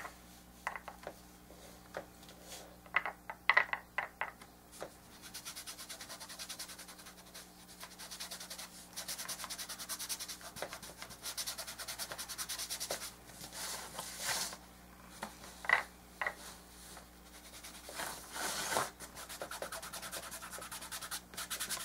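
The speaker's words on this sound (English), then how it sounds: "I'm just rubbing some white paint" Diluted white paint being rubbed onto an art journal page, a soft, steady dry scraping and rubbing texture that runs continuously, close and fairly quiet, with a low constant hum underneath.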